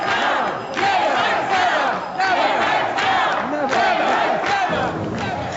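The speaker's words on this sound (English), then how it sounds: "A cacophony of boos, cheers, stamping feet, and clapping hands filled the City Council chambers" A packed City Council chamber erupts in a loud, continuous crowd roar of booing and cheering, with stamping feet and clapping hands blended into one dense wall of noise for several seconds.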